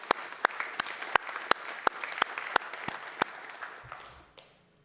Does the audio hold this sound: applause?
yes